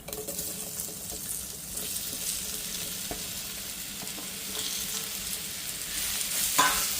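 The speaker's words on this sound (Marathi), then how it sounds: "आता थोडंसं परतून झालं की ह्या आंब्याच्या फोडी आहेत त्या आपल्याला टाकायच्या आहेत" Raw mango pieces sautéing in a pan for a sweet jaggery mango relish give off a steady, close sizzle, with light stirring scrapes and a brief sharper clatter near the end.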